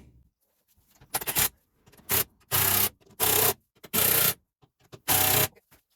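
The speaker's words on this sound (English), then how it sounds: "I'm just going to do it with my impact" An impact wrench on setting 1 snugs up 13mm bolts on a van's rear spring plate, giving six short, loud rattling bursts, each under half a second, separated by quiet gaps.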